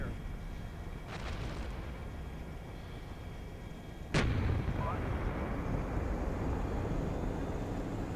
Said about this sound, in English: So we do have artillery, guys.